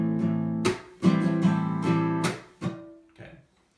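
Acoustic guitar strums struck hard with a pick and palm together, giving short percussive snare-like hits in an uneven rhythm, each followed by ringing chords that fade, close and clear with no talking.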